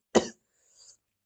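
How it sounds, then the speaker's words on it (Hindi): A single harsh cough close by, followed by a faint breathy throat sound, alone with no talk. "बहुत खांसी आ रही है"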